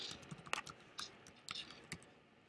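Someone types a web address on a computer keyboard, a quick, irregular run of close, soft key clicks with a few firmer taps, heard alone without talking.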